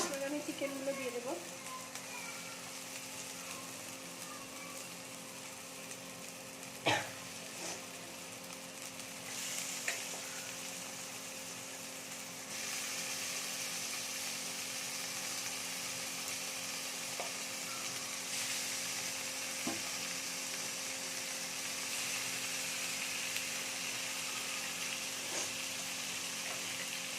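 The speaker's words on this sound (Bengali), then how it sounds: "এবার আমি চিকেনগুলো দিয়ে দেবো।" Chicken pieces frying in spiced masala for a Bengali-style chicken dish, a steady low sizzle and hiss in the pan with a couple of sharp knocks and stirring clatters, quiet and continuous throughout.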